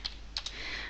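A few quick keystrokes on a computer keyboard, three light clicks close together in a quiet room, followed by a soft steady hiss.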